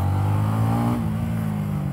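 A Honda Winner X motorcycle engine pulling hard in second gear, a loud steady drone that holds and then shifts pitch slightly partway through, close to the rider with no talk over it.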